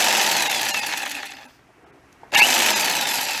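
A cheap handheld jigsaw whines loudly and steadily, cuts out for under a second, then starts again at full, harsh, high-pitched speed close by.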